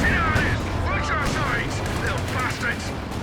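Anti-tank fire hitting a tank in a Company of Heroes 2 3v3 battle, a dense rumble of gunfire and booms under voices talking throughout.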